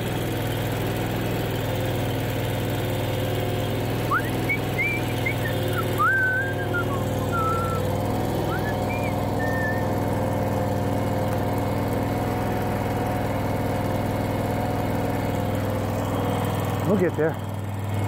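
A tractor engine idles steadily at low pitch while loading, a constant mechanical drone that runs the whole time, with someone talking and whistling briefly over it.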